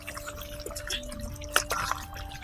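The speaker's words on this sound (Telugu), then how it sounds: "ఇట్లా తిప్పుకొని ఎసరు పోసుకుందాం." Water is poured into a cooking pot of country chicken curry, with short splashy pours, light drips and a few metallic clinks at close range and no talk.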